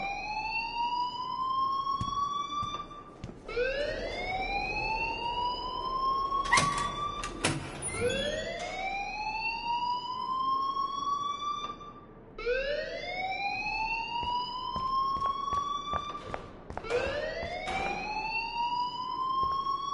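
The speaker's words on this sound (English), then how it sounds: "please turn off that alarm since that's your job" A rising-and-falling electronic alarm in the game Life is Strange wails continuously in repeated sweeping cycles, loud and steady, with sharp clicks and thuds breaking in now and then.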